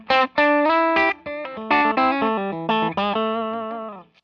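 Telecaster bridge pickup through a J Rockett Archer overdrive pedal with the tone darkened, playing a close, loud, distorted lick of picked notes and chords that ring and decay, with no talking.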